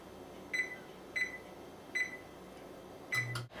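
An oven being preheated to 350 degrees for pumpkin pie beeps four times at a steady, slightly uneven pace, each chirp short and thin over a soft background hum.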